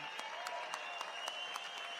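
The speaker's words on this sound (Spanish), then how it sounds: "Un fuerte aplauso, es la primera vez que compiten acá. Big round of applause." Crowd applause at the opening ceremony of a world surf championship, a steady wash of clapping at moderate distance with a few sharper claps standing out, no talk over it.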